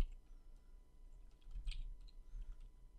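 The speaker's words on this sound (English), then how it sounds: "let's type the following command" Quiet, close keyboard taps as a .NET CLI command is typed at a command prompt, soft clicks over a low background hum.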